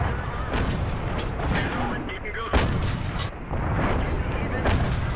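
Heavy cannon shots from a Matilda Black Prince tank in a tank battle video game, loud booming blasts that follow one another over a dense, continuous wash of battlefield noise.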